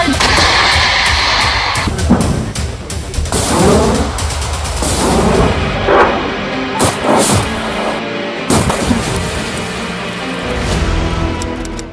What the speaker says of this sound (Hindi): हिजबुल्ला एक के बाद एक कई मिसाइल फायर करता है।